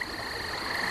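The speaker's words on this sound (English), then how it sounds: "a whole chorus of frogs at the same time" A nighttime chorus of frogs croaks in a dense, continuous trill, many voices blending into one loud, steady wall of sound.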